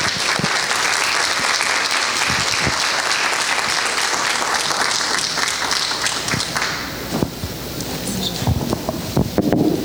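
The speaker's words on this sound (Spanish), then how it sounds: "Fuerte el aplauso para Rosy Peraza y para Jaime Ponce." Audience applause for two speakers at a business talk on succession in a family company, strong and dense at first, then thinning into scattered individual claps toward the end.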